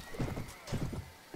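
Horse hooves clip-clopping with a neigh in Mount & Blade: Warband, a short burst of rhythmic thuds close up over game ambience.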